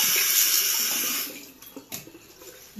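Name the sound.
water running from tap while rinsing face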